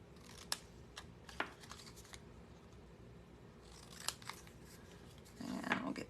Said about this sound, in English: We're gonna trim them with scissors.